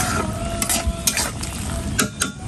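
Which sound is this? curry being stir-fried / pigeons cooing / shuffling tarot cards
curry being stir-fried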